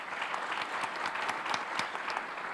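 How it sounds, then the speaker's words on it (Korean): Dense, steady audience applause at a smart city international symposium in Daegu, a brief burst of many hands clapping evenly for a couple of seconds with no talk over it. "박수 부탁드립니다."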